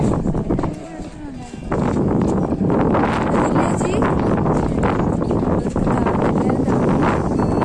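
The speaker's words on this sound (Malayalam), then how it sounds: "നല്ല കാറ്റ്." Strong wind at Golconda Fort in Hyderabad buffets the microphone in loud, continuous gusts, with a brief lull early on, while people talk beneath it.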